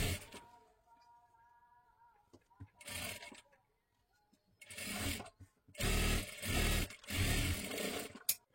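Sewing machine stitching a fabric edge while cutting and sewing puff sleeves, running in several short bursts with pauses between, with someone talking between the runs.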